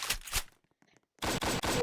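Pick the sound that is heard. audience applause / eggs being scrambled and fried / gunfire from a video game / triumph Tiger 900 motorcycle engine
gunfire from a video game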